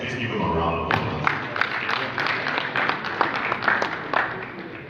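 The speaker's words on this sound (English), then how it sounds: "Please give him a round of applause." A crowd at a political party gathering claps steadily with scattered sharp hand claps, fairly close and loud, while a voice speaks over the applause.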